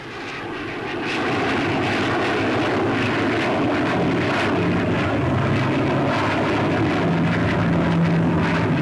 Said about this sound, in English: the very latest in jet bombers, the Victor, was there, making its first public appearance